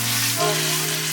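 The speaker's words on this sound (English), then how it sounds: "I'm gonna give this a mix" Garlic powder being stirred into sauce in a hot pan for a spaghetti ragu, a steady close sizzle with soft scraping of the mix over about a second, no voices.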